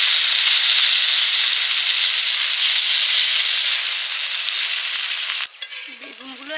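Piyaji onion fritters frying in hot oil in a kadai, a loud steady close sizzle and hiss that eases off near the end, with a brief faint voice at the close.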